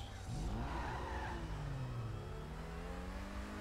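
A Grotti Visione sports car in a GTA video game revs hard while its tires skid and squeal, the pitch sweeping up and then holding a long, loud whine over a steady engine roar.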